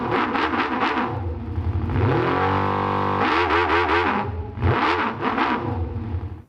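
Simulated multicylinder engine exhaust with unequal length headers: a rough, buzzing, distorted engine note that revs up and down in loud, close sweeps, briefly settling into a steady droning tone before revving again, with no talking.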